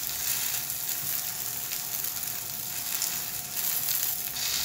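Freshly flipped fateer pastry frying in a pan gives a soft, steady sizzle and hiss that holds evenly throughout, close but fairly quiet, with no speech.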